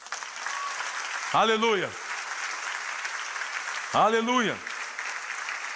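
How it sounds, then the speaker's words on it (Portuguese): A church congregation applauds in a continuous, even patter of clapping, while loud voices shout out twice over it. "Você pode aplaudir a Deus por isso?"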